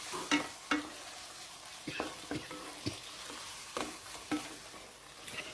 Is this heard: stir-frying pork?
yes